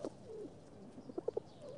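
Pigeons coo softly at close range, a few low throaty calls rising into a quick run of three short coos near the end, over a quiet background.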